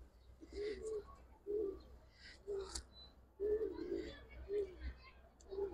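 Pigeons in a pigeon loft in Old Dhaka coo in a series of low, rounded phrases, about six distinct coos spread evenly across the moment at moderate volume, with faint background noise.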